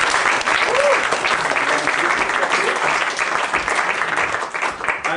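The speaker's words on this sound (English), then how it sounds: "Can you have a huge round of applause for Emily" Applause for a volunteer named Emily during a knight's-tour chess demonstration, a lively burst of clapping from the audience that fades a little toward the end, with a voice briefly audible underneath.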